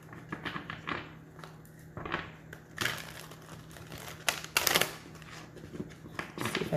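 Tarot cards being shuffled by hand, coming as short bursts of riffling and flicking with brief pauses between, fairly close and quiet, with no talking over them.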